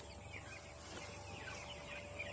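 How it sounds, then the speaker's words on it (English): Young chickens cluck and chirp softly in a brooder with an extension, a faint continuous flock chatter over a low background hum. "So we're gonna turn the chickens loose"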